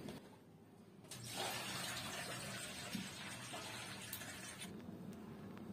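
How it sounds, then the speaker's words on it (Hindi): Lentils washed under running water for dal moong halwa, with a tap gushing steadily into a vessel after a brief quieter start and faint splashing throughout. "इसको उस वक्त तक धोएंगे जब तक ये पानी साफ नहीं हो जाता।"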